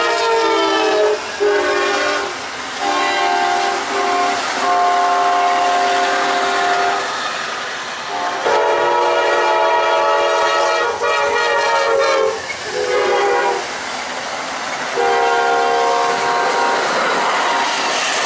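An Amtrak passenger train roars past close by, with a loud, sustained horn blasting repeatedly over the rumble and clatter of the cars.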